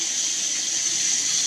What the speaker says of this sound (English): We're going to turn the water on in the bathtub.